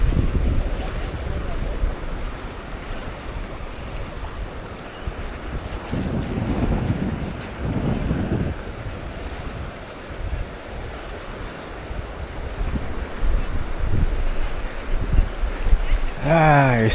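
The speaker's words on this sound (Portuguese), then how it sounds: "Esse som aí da natureza, o vento, o mar." Wind and sea waves at Canasvieiras beach in Florianópolis on a morning walk, a steady broadband roar of surf and gusting wind buffeting the microphone throughout, with swells of louder wash around the middle.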